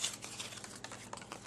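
Scissors snip through paper while the top flaps are trimmed off a small die-cut paper box for a witch's boot craft, giving faint, crinkly cutting and rustling sounds close by with no talking.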